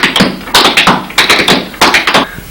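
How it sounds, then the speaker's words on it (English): Flatfoot dancing feet beat out a 4-beat double toe step: crisp, loud, close taps in quick clustered groups that repeat in a steady rhythm. "It's going to be the 4-beat double toe that sounds like this."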